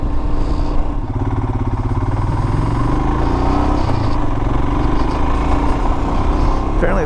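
A 2021 Gravel Grey Royal Enfield Himalayan motorcycle on the road gives a loud, steady engine drone with a rhythmic thump close by throughout, while a rider talks over it.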